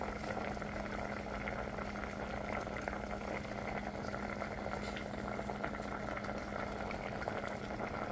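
Galunggong fish simmers in paksiw broth in a pot, giving a soft, continuous bubbling boil with a faint steady hum under it, quiet and unbroken, with no voices.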